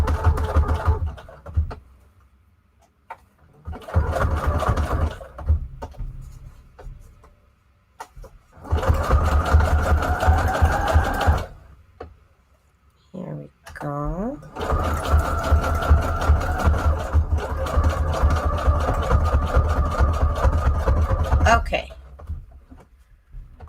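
A sewing machine runs in several bursts, stitching scrap paper onto guest checks made of white 110 cardstock, with loud mechanical chatter broken by pauses; a person speaks briefly between runs.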